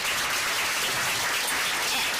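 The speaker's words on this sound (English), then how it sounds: "Let's give a round of applause to that." A brief burst of loud, dense clapping from an audience, even and sustained throughout.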